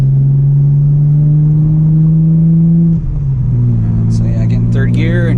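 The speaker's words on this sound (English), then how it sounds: "Third gear and just went up and throttle" A 2001 Audi B5 S4 with Tial 770 turbos pulling hard in third gear, a loud steady engine drone that rises in pitch, briefly dips at a shift-like break, then climbs again with whistling turbo tones.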